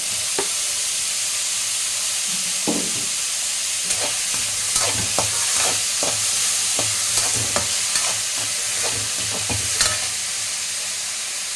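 Two large tomatoes dropped into a hot pan of oil for a crab curry, giving a continuous close sizzle with bursts of spattering crackle and occasional stirring scrapes.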